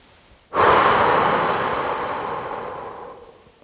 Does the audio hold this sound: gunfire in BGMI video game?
no